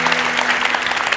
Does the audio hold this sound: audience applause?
yes